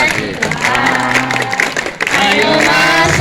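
A group sings together while clapping along, a lively Indonesian Red Cross youth session with voices and steady hand claps filling the room at close range.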